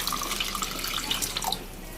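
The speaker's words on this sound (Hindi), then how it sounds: "और यहाँ इसके अंदर मैं पानी शामिल कर रही हूँ।" Water poured into a pot of soaked masoor dal in a home kitchen, a continuous even splashing rush that fills the whole moment and eases slightly toward the end.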